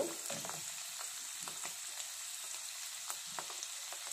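Spiny gourd stuffing frying in a pan while being stirred, a steady sizzle with soft scraping strokes of the spoon at irregular intervals, close and continuous.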